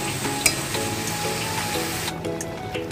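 Salted prawns frying in a pan for a Bengali jackfruit prawn curry, a steady loud sizzle with a faint clink near the start, and the hiss suddenly thins toward the end.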